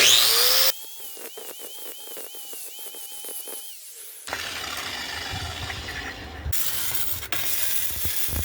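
An angle grinder works on a motorcycle frame, grinding silicone off a Softail, and is heard as a high whining tone that rises and wavers with repeated bursts. Abrupt cuts lead into rougher, louder grinding noise.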